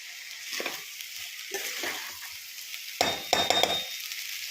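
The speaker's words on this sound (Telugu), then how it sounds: "బియ్యం అయితే ఫస్ట్ ఇలా నేతిలో కొంచెం ఫ్రై అవ్వాలి" Rice frying in ghee crackles and sizzles, with bursts of stirring and scraping against the pan and a faint clink.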